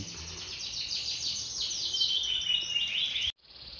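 A Yorkshire canary sings a fast, continuous run of bright chirps and trills, close and clear, ending abruptly.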